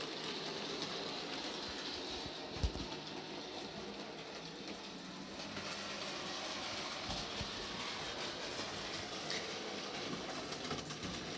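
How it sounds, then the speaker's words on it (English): A model railway engine runs steadily along its track past a goods yard, giving a continuous close rumble with a single thump early on and no voices. "Off he goes past the goods yard where the flying kipper is waiting for Henry to take out later on."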